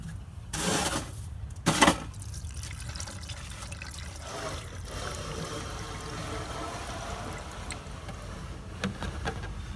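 Windshield washer fluid pours and trickles close by into a Toyota Prius reservoir, with a couple of brief louder splashes early on, then a steady flow.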